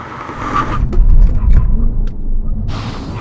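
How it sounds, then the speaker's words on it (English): A BMW M5 and a Porsche 911 Turbo S brake hard from 70 mph in a full emergency stop, heard as a loud rumbling, whooshing road noise that swells briefly and then settles. "we're going to have a brake test from 70 miles an hour when we hit the line. Full emergency stop"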